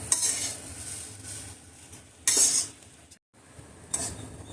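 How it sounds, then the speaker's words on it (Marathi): Grated coconut roasting in ghee over a low flame for coconut vadi: a soft sizzle under clinking and scraping of a metal spoon stirring in the pan, in a few louder bursts with a brief gap, no talk. "आता हे स्लो गॅसवर चांगलं परतवून खमंग भाजून घेणार आहे"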